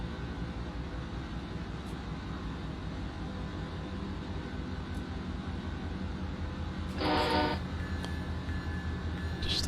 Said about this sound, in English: Just thought I'd toot at the guy in the back of the train